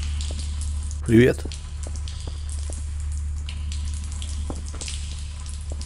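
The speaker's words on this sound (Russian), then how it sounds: "Слышу, вода где-то течет." Running water trickles steadily in an underground research lab in the Half-Life: Paranoia 2 video game, a soft continuous flow beneath a low hum, with a brief spoken greeting near the start.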